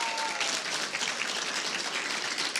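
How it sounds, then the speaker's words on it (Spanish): Applause for the women from a congregation at a church gathering, a brief, loud, continuous burst of many hands clapping with no voices over it. "Vamos a darle un aplauso a las mujeres,"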